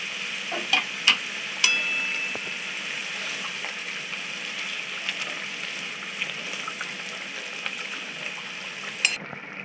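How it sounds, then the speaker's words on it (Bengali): Pabda fish simmering in a boiling curry gravy, a steady bubbling hiss with occasional soft clinks and stirring taps, close and moderately quiet throughout. "ঝোলটা কম ফুটে উঠেছে, এবার মাছটা দিয়ে দেবো"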